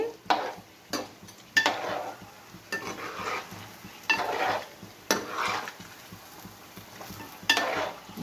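Mirchi bajji, chilli fritters in a spicy wam-flavoured batter, frying in hot oil, with a steady close sizzle broken by repeated stirring and scraping bursts of a utensil in the pan.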